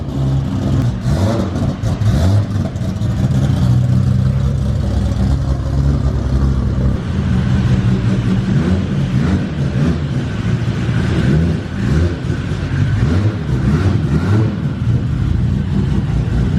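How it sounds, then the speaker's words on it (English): A Dodge Viper fifth-generation engine starts and rumbles loudly and continuously up close, rising and falling with revs, with some clattering over the steady roar. "Let's listen to how fun it is to start Dan's car"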